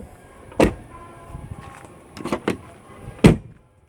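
Doors on a rusty 1977 Mercedes-Benz 450SEL 6.9 being shut, a few close solid thuds and latch clunks spaced over a few seconds with quiet handling noise between them.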